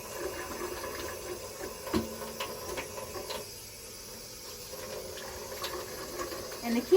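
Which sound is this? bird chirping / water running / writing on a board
water running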